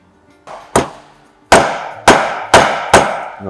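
Greased bearing driven into its seat with a socket and hammer: six sharp metallic clanging blows, irregular then steadier, loud and close with no talking.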